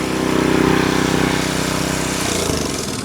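A Bilt Hard 212cc small gasoline engine drives a log splitter, running loud and close with a steady buzzing drone that dips slightly in pitch partway through.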